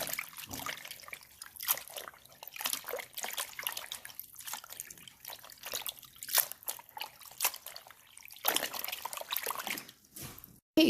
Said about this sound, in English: I guess I will rinse these and try to just flatten them out